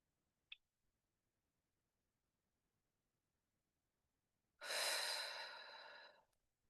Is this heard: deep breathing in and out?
yes